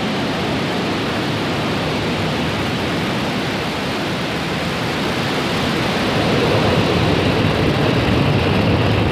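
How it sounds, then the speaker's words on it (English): At liftoff, a SpaceX rocket carrying the Turksat 6A satellite gives off a dense, unbroken rumbling roar, loud and steady, swelling slightly toward the end. "Ignition and liftoff."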